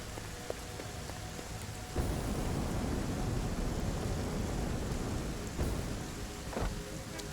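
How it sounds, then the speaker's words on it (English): Steady rain hisses while a low rumble of thunder rolls in and builds, heard faintly with no voices, in the video game Satisfactory. "I guess the rain is here."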